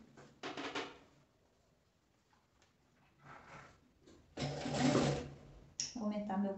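An electric sewing machine stitches around the edge of a fabric placemat with cutlery and cup holders, in several short rattling bursts of varying length separated by pauses, with a voice briefly at the end.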